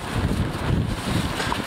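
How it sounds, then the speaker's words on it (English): Strong wind buffets the microphone in a loud, constant low rumble with gusty fluctuations and no speech. "it's so windy"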